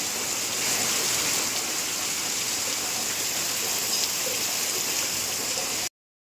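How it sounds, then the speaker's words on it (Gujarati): Steady, heavy village rain from a thunderstorm hisses evenly and close by for about six seconds, then cuts off abruptly. "ફૂલ વરસાદ આવ્યો આમ જો"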